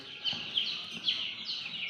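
Young chicks being driven indoors keep up rapid, high-pitched peeping, several overlapping chirps repeating evenly at moderate volume close by.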